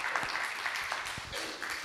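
Brief clapping from a small audience at a Melbourne developer meetup, a short burst of moderate, fairly close hand claps in a room.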